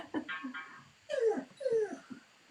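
A dog whimpers and yips in a string of short, high, whining cries with brief gaps, fairly close and moderately loud, ending in longer pleading whines.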